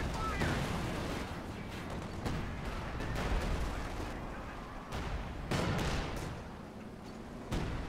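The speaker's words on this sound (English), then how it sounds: "A lot of artillery going down." Artillery fire in Company of Heroes 2, a string of heavy booms and blasts landing one after another over a constant battle rumble, some near and loud, with faint voices mixed in.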